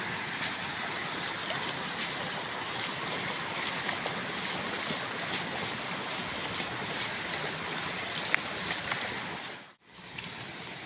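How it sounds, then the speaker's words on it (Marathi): Floodwater pours across a road in the Konkan during heavy monsoon flooding, a dense, steady rushing roar close by that runs unbroken and dips only briefly near the end. "हे बघा पूर्णपणे रस्त्यावरून पाणी जात आहे"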